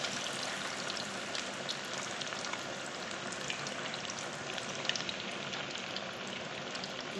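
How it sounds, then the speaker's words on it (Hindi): Masala-coated fish deep frying in hot oil, a steady dense sizzle and crackle that runs unbroken and close throughout, with no talking. "मैं माशाल्लाह से निकाल रही हूँ और डीप फ्राई कर रही हूँ"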